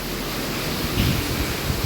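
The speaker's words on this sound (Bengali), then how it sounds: "ভোর থেকে একটানা বৃষ্টি পড়তেছে এবং রাত অনেক রাত হয়ে গেছে তারপরেও বৃষ্টি হচ্ছে" Continuous heavy rain falls at night in Cumilla, Bangladesh, with strong wind. It makes a dense, steady broadband roar that swells slightly midway, close and loud with no voices.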